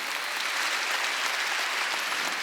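A church congregation at a Wednesday worship service claps together in dense, continuous applause, loud and steady throughout with no voices above it.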